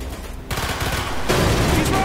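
Rapid gunfire aimed at support beams in Call of Duty Black Ops, loud bursts that thicken into a continuous barrage, with shouted voices in the mix.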